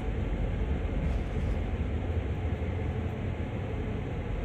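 A train runs in the Train Sim World game, heard from the cab as a steady, heavy low rumble with constant broadband mechanical noise and no distinct breaks.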